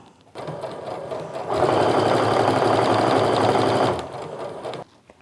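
A sewing machine stitches down the remaining length of a quilt seam in one steady, loud, continuous run, with quieter starting and stopping at either end and no talking.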